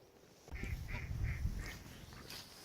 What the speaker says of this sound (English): So, sit down for lunch, get hassled by ducks.